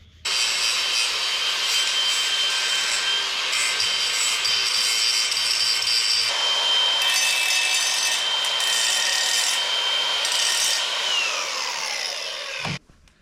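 Combine harvester metal parts are filed or abraded clean before welding. A close, loud, continuous rasping scrape runs for about twelve seconds, shifts tone midway, and then stops abruptly.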